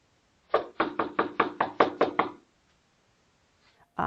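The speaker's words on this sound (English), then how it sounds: "My husband receives a knock at the door." Eight quick, evenly spaced knocks on a house's front door ring out crisply in a steady rhythm, followed by silence and a faint soft sound at the end.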